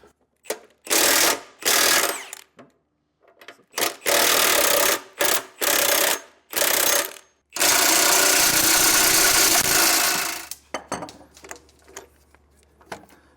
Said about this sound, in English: then we can just start loosening our bolts. In our case, I have a 24mm wrench and socket, and I'm going to pull these out.